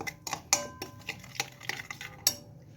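A spoon scraping and clinking in a pan as chicken shish tawook with paprika and salt is stirred, giving a string of sharp metallic taps and scrapes at an irregular rhythm, close up with no talking.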